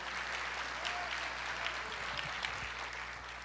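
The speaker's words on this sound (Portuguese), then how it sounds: "Você pode aplaudir o Senhor?" A church congregation applauds the Lord during a sermon, a soft, fairly distant wash of clapping that holds steady throughout, with a low electrical hum beneath it.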